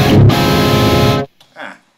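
Clean guitar tone from a Cuvave Cube Baby multi-effects unit with delay and reverb turned off: a loud, sustained strummed chord ringing about a second before being cut short, followed by a brief faint note.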